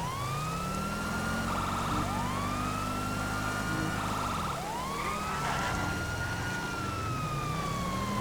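A police car siren in the video game GTA 5 wails in repeated rising and falling sweeps, loud and continuous, over a low engine hum on wet roads with no talking.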